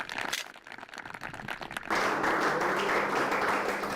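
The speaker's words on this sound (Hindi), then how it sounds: "तो जोरदार तालियां एक बार फिर से बजा दीजिए।" At a farmers' quiz show on agriculture and animal husbandry, loud applause bursts out and holds steady, following a stretch of scattered clapping and background noise.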